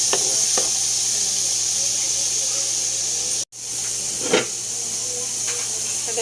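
Ingredients sizzle in a hot pan with a loud, steady frying hiss close by, broken by a brief scrape or clatter of stirring.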